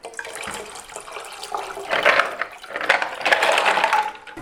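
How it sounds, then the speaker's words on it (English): Ice water pours and splashes into a pot of tea in a couple of surges, with a light clatter that fits ice tumbling in. "Now's when I need that ice water. I'm going to pour that right into the pot."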